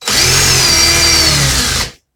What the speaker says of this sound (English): put my drill in reverse, and do a couple rotations to loosen this Clapton